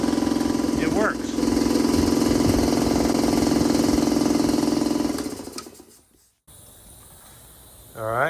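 A serviced electric air compressor starts up and runs loudly with a steady motor hum and rattle for about five seconds, then winds down and stops, leaving a quiet hiss and faint background noise.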